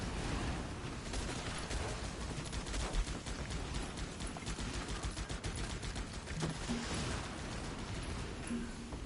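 Rapid gunfire from the video game Guns Up, dense crackling bursts of shots packed closely together at low volume, continuous throughout with no talking.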